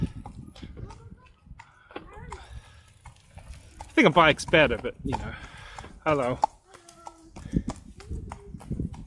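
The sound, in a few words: horse hooves clip-clopping on path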